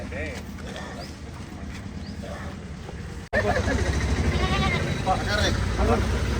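Repeated wavering bleats sound from young animals, some close, over a steady hubbub of voices and outdoor noise.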